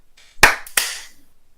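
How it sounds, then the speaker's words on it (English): Two sharp, loud hand claps close to the microphone, about a third of a second apart, each decaying quickly into quiet, used to sync podcast audio. "clap sync in 3, 2, 1."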